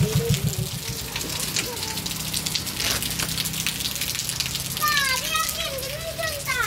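Heavy monsoon rain pours and water gushes steadily in Gujarat while children shout and play nearby, their voices rising over the constant watery wash.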